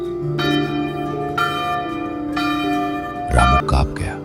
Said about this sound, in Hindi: घंटी अपने आप बज उठी।